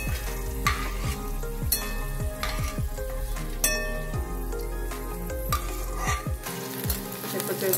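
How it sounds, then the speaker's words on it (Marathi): Potato pieces frying in oil for upvas chivda, a dense continuous sizzle with bubbling and occasional clinks of a utensil against the pan, close and steady, no voices. "अशा प्रकारे सगळे जिन्नस तळून घेऊया आपण."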